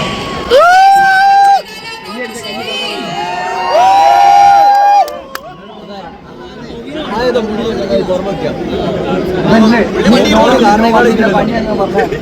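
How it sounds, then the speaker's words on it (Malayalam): At an inauguration in Thamarassery, a crowd cheers, shouts and chatters in a loud, continuous burst of close hubbub, coming after strong sustained tones and an announcer's voice. "കൈയടിച്ച്"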